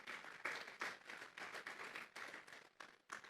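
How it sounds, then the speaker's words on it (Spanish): A church congregation claps in strong, bursting waves of applause during a sermon, the clapping close and lively with brief dips between surges. "Vamos a darle un fuerte aplauso pues al Señor"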